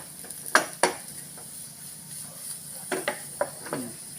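Garlic frying in a pan until lightly browned is stirred with a few distinct scraping strokes against a steady, soft sizzling hiss, fairly close and with no talking.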